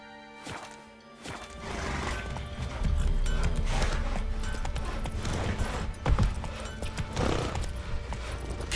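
Hooves of the horse Roach drum in a quick, steady clip-clop gallop in The Witcher 3, loud and close, with jingling tack and mechanical clatter over a low rumble.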